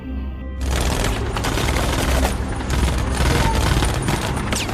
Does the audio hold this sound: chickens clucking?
no